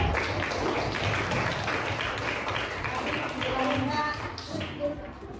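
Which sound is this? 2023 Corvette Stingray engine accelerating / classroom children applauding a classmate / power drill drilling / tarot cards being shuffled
classroom children applauding a classmate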